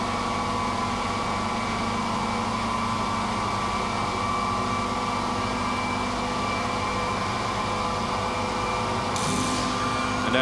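The Alexanderson alternator at Grimeton spools up as its drive motor reaches full speed, giving a loud, continuous machine hum and whine with steady tones that hold throughout, rising slightly near the end.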